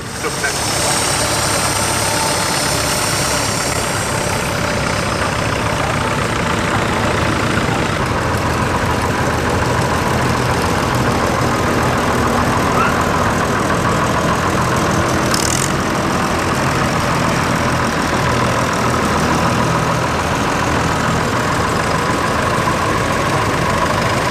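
Two small Leyland 154 diesel tractors sit side by side idling at a tractor show, a steady low chugging rumble that holds unbroken and loud for the whole stretch, with crowd murmur in the background.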